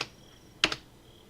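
A computer keyboard key pressed twice in quick succession, a sharp near double click like an Enter keystroke while working in Rhino3D, alone in a quiet room.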